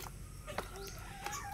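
Chickens on a small farm cluck faintly and briefly a few times against a quiet outdoor background.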